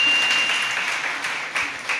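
An audience at a religious talk claps in a short, fairly dense burst of applause that fades slightly, with a couple of louder claps near the end.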